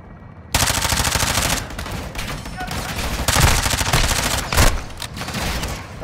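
Rapid gunfire in the Modern Warfare 2 video game: loud, continuous automatic bursts and heavy shots rattle nearly throughout, with short lulls and a few sharper blasts, and a voice is faintly present underneath.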